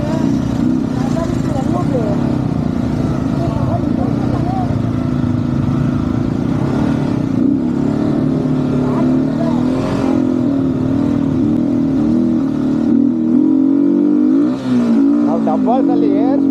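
Off-road motorbike engine on a rough dirt track, revving steadily and loud up close throughout, with people talking over it and wind buffeting.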